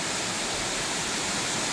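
Waterfall beside Narrows Lookout on the walk from Baroon Pocket to Obi Obi Creek, flowing strongly after rain: a steady, full-band rush of falling water that stays loud and even from start to end, with no voices.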